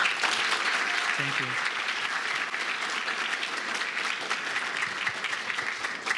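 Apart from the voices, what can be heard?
audience applause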